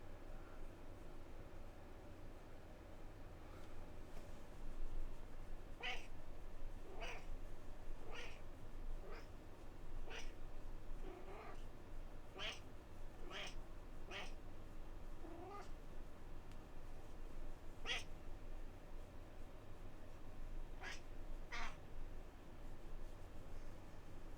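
A cat meows repeatedly in Atomfall, a dozen or so short cries spaced irregularly over a steady low ambient hum, fairly faint and with no talking.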